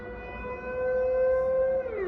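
A loud sustained civil defense siren tone during a monthly test in the Netherlands holds steady, then starts to slide downward near the end, sounding like an outdoor warning siren heard from nearby.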